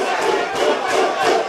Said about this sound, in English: And you can hear the crowd here in Rio